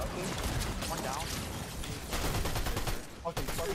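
Gunfire in the video game Fortnite: a steady crackle of rapid shots runs throughout at moderate volume, mixed with other game sounds and a voice talking.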